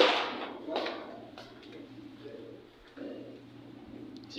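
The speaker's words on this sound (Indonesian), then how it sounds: "Ada burung" Pigeons or doves cooing on the ground floor of a kindergarten building under renovation in Jeddah, Saudi Arabia, soft repeated coos in the background with a few brief louder bursts.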